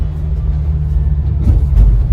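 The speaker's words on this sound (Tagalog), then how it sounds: "yung mga sasakyan, no? Dahan-dahan lang din." A car drives slowly on a slippery road with thawed snow, a loud, steady low engine rumble close by with a slight swell near the end and no talk.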